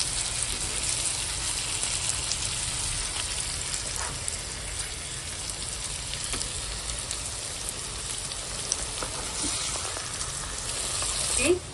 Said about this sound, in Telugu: మధ్యలో వీటిని తిప్పుతూ ఫ్రై చేసుకోవాలి